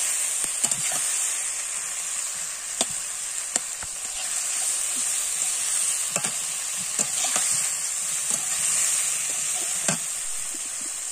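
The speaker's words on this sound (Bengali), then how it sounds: "টমেটোগুলোকে খুব সুন্দর করে কষাই করে নেব" Tomatoes for a sweet-sour-spicy chutney sauté in a pan with turmeric and salt, hissing steadily while a spatula scrapes and taps now and then, near and without speech.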